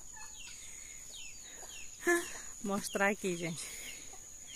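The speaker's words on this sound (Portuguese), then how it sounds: "tá cheio de galinha aqui" Free-ranging farmyard chickens climbing around a cashew tree near potato plants, clucking in short bursts close by amid a woman's speech and faint background noise.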